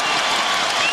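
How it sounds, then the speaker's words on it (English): Broad, steady roar of a basketball arena crowd cheering during a 2004 NBA playoff game between the Lakers and Rockets, loud and continuous with no break. "that gets the crowd even more excited"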